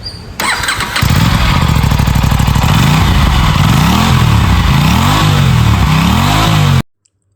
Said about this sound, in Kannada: ಥ್ರಾಟಲ್ ಓಪನ್ ಮಾಡ್ತಿದ್ದಂಗೆ ಇಂಜಿನ್ ತಕ್ಷಣ ರೆಸ್ಪಾನ್ಸ್ ಮಾಡಿದೆ ಗುರು ಇದರಲ್ಲಿ